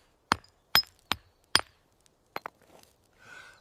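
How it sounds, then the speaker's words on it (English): Rocks struck together to make fire: five or six sharp, isolated clacks with brief ringing tails and pauses between, followed by a soft scrape or rustle, close and otherwise quiet. "It's just hitting rocks together until they burst into flames"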